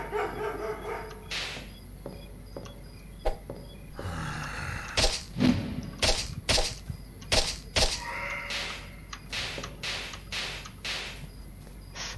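A dog in the 2D side-scrolling action game Void Memory barks repeatedly in sharp, evenly spaced bursts over a quiet, buzzing backdrop, loud and close.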